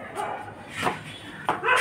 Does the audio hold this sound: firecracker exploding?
no